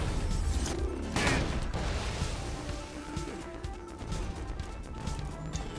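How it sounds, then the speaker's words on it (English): Explosive blasts and gunfire in a chaotic video game firefight, a loud burst near the start followed by continuous crashing battle noise that stays dense and busy throughout. "Grenade."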